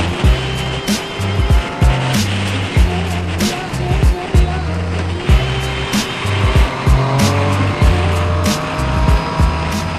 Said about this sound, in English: That means it's time for a motorcycle ride.